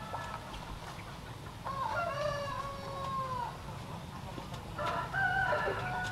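Chickens on a farm, a rooster crowing twice with drawn-out calls amid soft clucking and low outdoor background noise.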